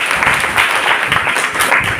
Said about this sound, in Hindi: प्लीज तालियां बजा दीजिए एक बार।